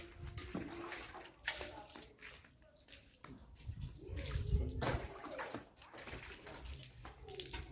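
Water is poured from a tub into a bucket for bathing, splashing and sloshing in uneven bursts close by while people talk.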